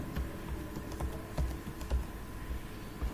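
Typing on a computer keyboard while writing in Microsoft Word, close, irregular soft key taps with a few heavier thumps, over a steady low room hum.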